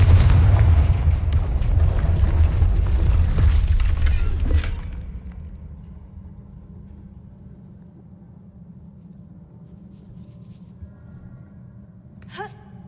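Heavy magical blasts from the Confringo fire spell in Hogwarts Legacy boom loudly and close for several seconds, rumbling in a dense roar before fading into a low ambient hum, with a brief sharp burst near the end.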